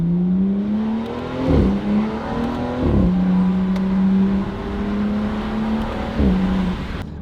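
A BMW N55 engine breathing through a Valvetronic valved sport exhaust revs repeatedly, each climb falling away sharply in several rising and dropping sweeps, echoing off nearby buildings, with no talking.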